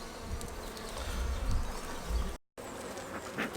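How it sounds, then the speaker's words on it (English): Honeybees buzz on the comb during a beehive inspection, a dense, continuous drone of many insects close by, calm and steady, with one brief dropout partway through. "the bees are being really calm on the comb"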